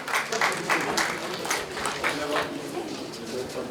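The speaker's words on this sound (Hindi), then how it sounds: "जोरदार तालियों के साथ स्वागत करें।" An indoor audience at a family get-together claps steadily for several seconds to welcome a speaker, with voices faintly audible under the applause.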